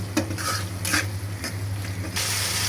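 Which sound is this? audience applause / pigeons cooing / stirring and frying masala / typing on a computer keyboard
stirring and frying masala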